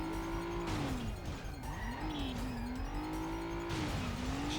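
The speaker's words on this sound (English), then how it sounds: "Back into the car and accelerate away." Car accelerating away in the Stuntman video game, engine rising in pitch with a gear change and brief tire noise, loud and continuous, with no voices.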